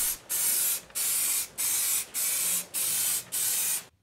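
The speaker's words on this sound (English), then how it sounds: "spraying them with some hard wearing black paint" Six evenly spaced bursts from an aerosol can spray hard-wearing black paint onto car wiper arms for a Toyota MR2 rebuild, each hiss loud and close with short pauses between.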